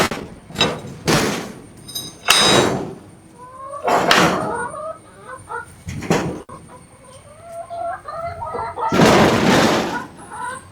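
Several chickens cluck and call inside a coop at close range, loud bursts of squawking alternating with quieter clucking and a few knocks.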